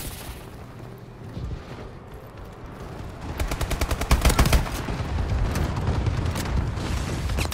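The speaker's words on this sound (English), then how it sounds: "Enemy bombing run incoming." A bombing run strikes in Call of Duty: Advanced Warfare online team deathmatch, rapid rattling blasts and rumbling impacts building from about three seconds onward, loud and dense, following a quieter stretch of background battle noise.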